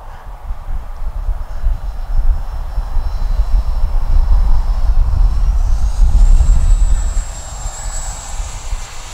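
An Arrows RC Marlin 64 model airplane with modified landing gear flies overhead, its small electric motor whining faintly with a pitch that rises late in the pass over a rumbling wind-blown background.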